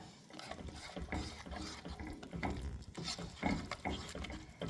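A thick macaroni and cheese mixture with sharp cheese being stirred, giving a continuous, soft, wet scraping and churning that stays steady and close throughout.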